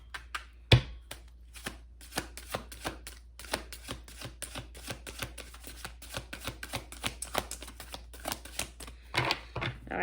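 Tarot cards are shuffled close up in a quiet room, a dense run of quick, crisp riffling taps and snaps with an uneven rhythm and a sharp knock near the start, with no voices over it.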